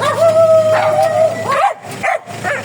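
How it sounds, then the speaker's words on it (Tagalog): Dogs bark and yip repeatedly nearby, a sustained whining howl at first followed by several sharp barks. "Ingay ng aso."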